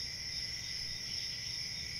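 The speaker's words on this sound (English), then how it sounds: "You guys hear those crickets?" Crickets chirp steadily as a played sound effect, a dense continuous trill held at an even level for the whole stretch with no voices over it.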